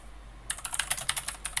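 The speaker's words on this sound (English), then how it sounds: "if I'm halfway through typing something here" Quick, uneven typing on a computer keyboard, a close run of sharp key clicks starting after a brief pause.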